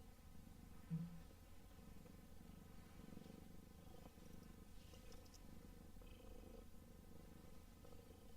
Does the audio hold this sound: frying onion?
no